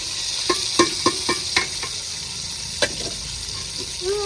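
Onion, tomato and chili masala frying in a pot, with a steady close hiss of sizzling oil broken by a series of sharp spoon scrapes and clinks as the mixture is stirred.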